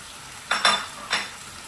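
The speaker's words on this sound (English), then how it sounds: "Give that a little stir." Chicken and baby corn are stirred in a pan of Thai red curry, giving three short scraping strokes close by, with no one talking.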